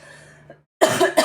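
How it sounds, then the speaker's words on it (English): A person coughs twice in a quick pair, close and loud, after a brief stretch of faint background noise and a moment of silence. "Sorry, I got a cough."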